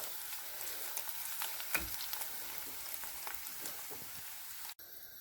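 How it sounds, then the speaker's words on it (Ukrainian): Onions sizzle and crackle steadily in a pan over medium heat, a quiet, continuous frying hiss with small pops. "смажимо цибулю, не паримо, не тушкуємо, а дійсно смажимо"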